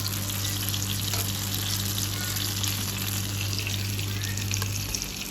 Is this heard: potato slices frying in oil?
yes